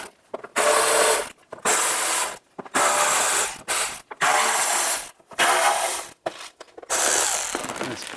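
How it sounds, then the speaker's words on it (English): Nuts being removed with a 10mm socket on a ratchet produce close, loud bursts of rapid clicking repeated about eight times, separated by short silent gaps, with no voices. "Using a 10mm socket, take the rest of the nuts out."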